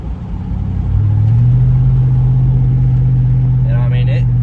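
The V8 of a 2008 GMC Yukon Denali with its muffler cut off settles into a loud, steady droning rumble after a short rise in revs. Heard close up and constant, with a brief faint chirp near the end.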